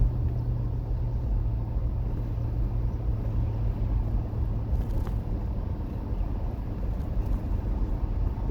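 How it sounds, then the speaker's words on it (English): A 2006 Ford Crown Victoria P71 police package sedan accelerating under light throttle, heard as a steady, loud low engine rumble from inside the car, continuous with no talk. "Plenty of acceleration, just touching the gas."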